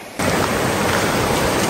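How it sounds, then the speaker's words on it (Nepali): Heavy rain falls during a flood beside a children's park, starting abruptly and continuing as a loud, dense, unbroken hiss. "आकाशबाट पनि पानी आइरहेको छ।"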